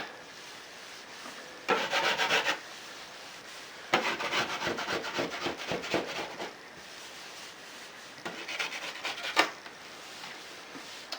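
Scraping stubborn leftover wallpaper and seam glue off drywall with a blade, heard as three close bursts of gritty, rasping strokes separated by brief quiet pauses.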